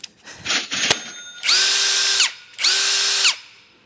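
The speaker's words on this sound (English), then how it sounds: "It's a new drill." A new cordless drill whirs in two sustained bursts of a little under a second each, loud and close, after some brief handling clatter.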